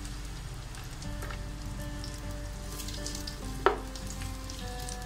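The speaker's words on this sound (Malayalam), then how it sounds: "ചൂടായി വന്നിട്ടുണ്ടെങ്കിൽ നമുക്ക് ഇതിലേക്ക് ആ വെളുത്തുള്ളി ഇട്ട് കൊടുക്കാം." Garlic frying in hot olive oil in a pan for spaghetti, a steady crackling sizzle running throughout at close range, with one brief sharp clink partway through; no voices.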